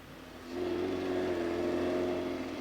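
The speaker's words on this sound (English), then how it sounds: "Elvis 1250, much modified and with a supercharger poking out the front" A much-modified, supercharged Alvis 12/50 vintage sports car accelerates at Prescott, its engine note swelling after a half second into a steady, moderately distant whirring drone.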